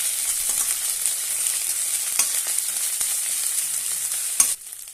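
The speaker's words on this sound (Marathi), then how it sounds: "आता आपण हे वाटण केलेलं यामध्ये घालूया आणि छानपैकी तेलामध्ये परतून घेऊया।" Ground spice paste sizzles steadily in hot oil in a pan for curry leaves rice, with a few soft stirring scrapes over a constant close frying hiss.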